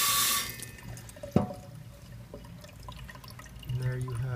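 Water rinses a freshly cleaned MIG-welded 304 stainless steel seam, a faint running splash with a sharp drip or knock partway through, quiet and close.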